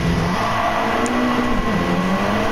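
Turbocharged 2.0-litre 16-valve Mitsubishi Lancer Evolution pulling hard in third gear, a steady loud engine drone rising slowly in pitch as revs climb, heard close from inside the car with no talk.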